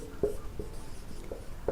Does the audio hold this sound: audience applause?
no